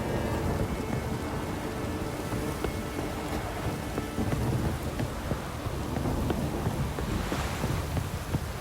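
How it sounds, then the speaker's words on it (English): A thunderstorm with heavy rain in The Witcher 3: Wild Hunt, near Crookback Bog, brings a loud continuous roar of rain and rumbling thunder without any voices. "The storm, damn it."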